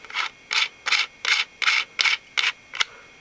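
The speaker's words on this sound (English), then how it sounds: "push this flash hider clockwise facing the muzzle. Remember to hold this tab here, push it down. Okay, and just screw it in." A flash hider being screwed onto an LCT AKS74U airsoft gun gives eight evenly spaced ratcheting clicks, close and crisp, the last one sharper.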